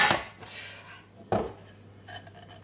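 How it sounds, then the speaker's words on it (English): An oven door is opened and a metal baking tray, meant for a giant Yorkshire pudding, clatters out in two sharp metallic knocks followed by lighter clinks, close up in a quiet kitchen. "I'm just going to open the oven a little bit"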